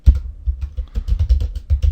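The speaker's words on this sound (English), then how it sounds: "So I'll type the tagline in once again." Computer keyboard typing, a quick close run of soft key taps in an irregular rhythm, with no speech.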